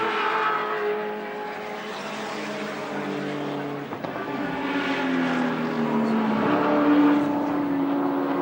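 Engines roar steadily as Group A touring cars race past at Wanneroo in 1986, their pitch rising and falling, with a faint voice underneath.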